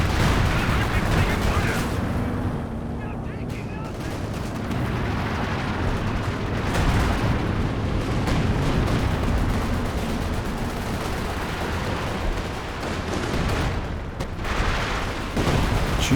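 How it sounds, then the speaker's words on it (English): Howitzer artillery fire in Company of Heroes 2, a dense barrage of booming blasts and gunfire that continues without a break, with a voice talking over it. "There's Howitzer fire coming in"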